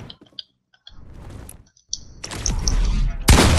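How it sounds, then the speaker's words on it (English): Fortnite gunfire crackles in sharp, clicky bursts, scattered single shots early and then a dense, loud volley near the end, with game effects between the shots. "See my shooting?"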